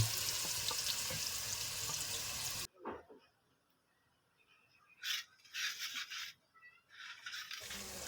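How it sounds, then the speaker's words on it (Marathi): Loud frying hiss of onion in oil for biryani gravy that cuts off abruptly, followed by quieter bursts of sizzling and clattering in a pan on a wood-fired clay stove, close by. "हे बघा कांदा टाकलेला आहे फोडणीसाठी"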